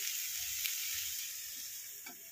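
Potato, cauliflower and onion stalks fry in a pan with a soft, steady hiss and sizzle, a few faint stirring sounds underneath, quiet and close.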